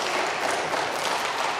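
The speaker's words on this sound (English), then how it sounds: "let's give our wonderful audience a round of applause" An audience of parents applauds steadily at a third grade school presentation, dense continuous clapping filling the room, close and loud, with no break.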